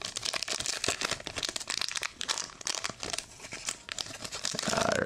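Pokemon Black & White Emerging Powers trading card booster packs crackle and rip as foil wrappers are torn open by hand, a close, busy stream of crinkles and sharp tearing bursts.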